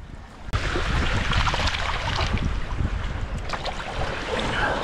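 A crude chert knife blade is rinsed at the edge of the Ohio River: a continuous rush of splashing water mixed with heavy wind buffeting on the microphone, loud and close, with no speech.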